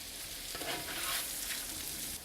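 Potatoes frying in oil and butter for a breakfast hash, a steady close sizzle with soft stirring and flipping scrapes partway through, no talk.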